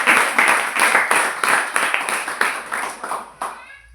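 Rhythmic clapping from a church congregation praising God in worship, steady repeated claps over a few seconds that thin out and fade at the end.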